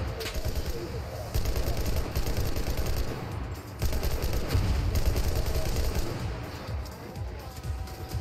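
Dense automatic and rapid gunfire in the Enlisted zombie survival mode, volleys crackling almost continuously, loud and close, with brief lulls and a player voice talking over parts of it.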